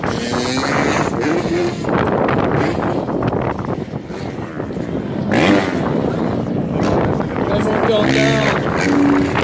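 Heavier four-stroke freestyle motocross motorcycle engine at an FMX show in Pecquencourt, revving and surging loudly under gusty wind and constant French commentary.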